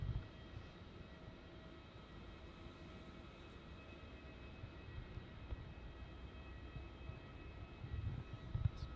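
A Jetstar Boeing 787 airliner approaches runway 09 at Melbourne Airport in wet, rainy weather, its engines a faint, steady distant rumble with a slight swell toward the end and no voices.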